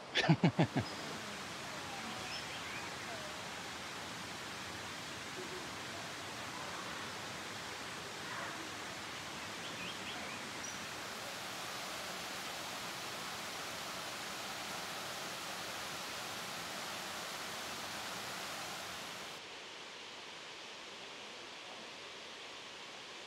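First level of Erawan waterfall in Thailand, a steady broad rush of falling water heard up close, continuous and even, with a few brief knocks at the start before it cuts to quieter ambience near the end.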